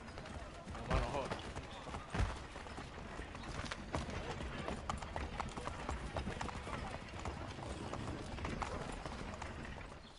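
A horse gallops in the video game Assassin's Creed 3, its hooves drumming in a steady, continuous clip-clop over other soft game sounds.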